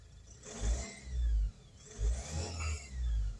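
A cold car engine revved gently in two rising and falling swells, each climbing to a moderate whine and dropping back to idle, close by with no talk.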